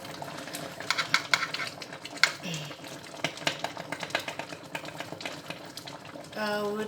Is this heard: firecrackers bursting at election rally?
no